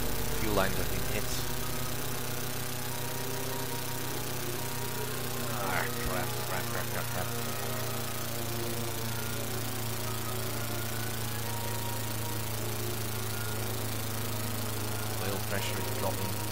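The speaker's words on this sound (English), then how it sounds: "Right, so in a moment my engine is going to stall." A steady drone from a plane engine running in the flight game Red Baron, a WWI-era fighter with its oil pressure dropping, holding a constant hum throughout with brief faint bursts over it.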